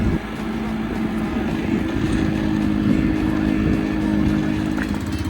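Honda 50 moped with a new drive belt, ridden around the block, its small engine droning steadily and loudly at close range throughout.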